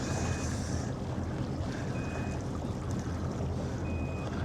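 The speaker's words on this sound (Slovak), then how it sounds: "Ale to ti alarm pípa," A boat's alarm beeps three times at a steady interval, each a short high tone, over the constant rumble of engine and water while cruising on the Danube.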